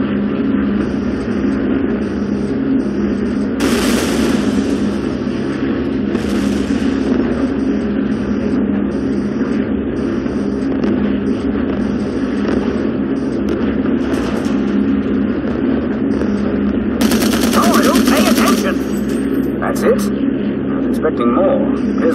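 Heavy, continuous engine drone of a bomber in Call of Duty: United Offensive, with bursts of noisy crackle that fit tail-turret machine gun fire, loud and dense throughout, and voices talking over it.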